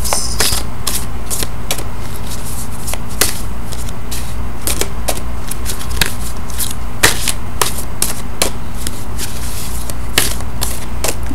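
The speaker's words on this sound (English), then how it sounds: "And I do shuffle live." Tarot cards being shuffled by hand, giving repeated crisp riffling bursts and soft slaps at a steady, irregular pace, close and clear over a low constant background hum.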